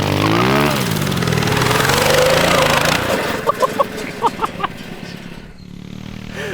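A small mini bike engine buzzes loudly on a backyard dirt track, droning steadily and then fading while chickens cluck in short bursts nearby.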